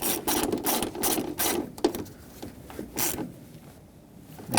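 Rapid ratchet clicks in several short bursts as a wrench tightens an 11mm ground fastener on a 1998-2011 Ford Ranger 4.0L V6 wiring harness, close and crisp with brief pauses between strokes.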